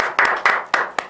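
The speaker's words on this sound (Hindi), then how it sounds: "एक बार जोरदार तालियों से स्वागत करेंगे" A few people clap in a classroom to welcome a student, four sharp, slightly uneven claps spaced about a quarter second apart, close by.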